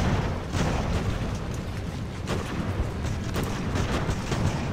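Musket volleys and artillery fire rumble continuously in a 1775 Battle of Bunker Hill naval-era strategy game, dense overlapping booms and cracks at a steady distance with no speech.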